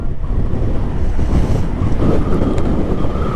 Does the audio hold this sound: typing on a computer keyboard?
no